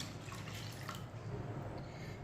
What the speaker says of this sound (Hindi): 4 गिलास पानी डालेंगे। ये 1 गिलास पानी, ये 2 गिलास पानी,